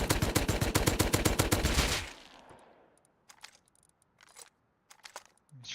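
Rapid automatic gunfire from the video game Rust, a loud burst of evenly spaced shots for about two seconds, then a decaying tail and a few faint scattered clicks and noises.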